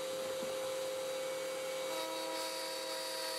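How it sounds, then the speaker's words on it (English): A router with its cutter raised a few millimetres cuts a circle in an oak board on a workbench, producing a steady, faint, high-pitched motor whine and cutting hiss that continue unbroken throughout. "with the cutter raised just a few millimetres, I can rotate the board and cut the circle."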